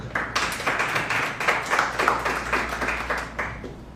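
An audience at a literary academy lecture in Vila Velha applauds, a dense, even patter of many hands clapping for about four seconds, close and fairly loud, then stopping.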